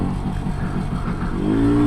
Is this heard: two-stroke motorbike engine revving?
yes